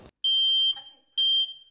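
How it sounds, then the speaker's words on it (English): A household smoke alarm emits two shrill, piercing electronic beeps during a home inspection, each about half a second long, separated by quiet with faint rustling in the room. "And where's your smoke alarms?"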